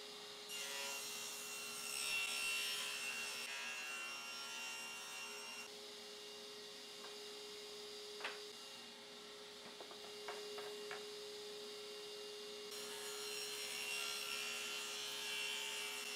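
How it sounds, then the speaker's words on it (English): Wooden boards being sawn at a 45 degree angle for a French cleat tool wall, a steady, fairly faint rasping cut that continues with little break. "Now I'm going to cut the boards at a 45 degree angle"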